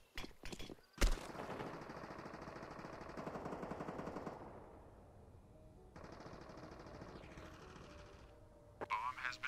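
Mac-10 submachine gun firing in Counter-Strike during an ESL Challenger League esports match, rapid automatic bursts in quick rattling sequences mixed with other game sounds, with a voice talking over part of it.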